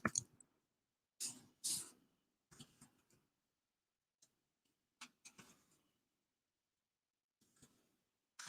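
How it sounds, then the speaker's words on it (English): Sparse clicks of keys on a computer keyboard, arriving in short irregular bursts separated by quiet gaps, faint and close with no voices over them. "I'm typing out a list here for you guys."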